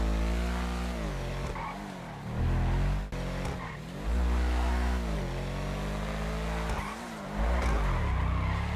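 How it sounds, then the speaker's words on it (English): Ubermacht Sentinel GTS in GTA V Online sliding through repeated handbrake skids, with tire squeal and engine revs rising and falling in about three waves, loud and close, with no talk. "Get a little handbrake action."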